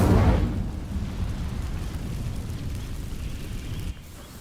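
The Incendio fire spell ignites dry vines in Hogwarts Legacy with a sudden rushing whoosh at the start, settling into a low crackling burn that holds steady before cutting down near the end.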